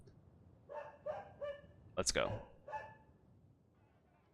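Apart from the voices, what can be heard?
dog barking in video game Sorcery!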